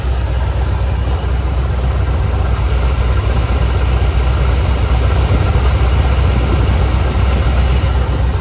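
A Citroën C3 car engine idles after its first start in two years, a loud, steady low rumble with constant vibration and no talking.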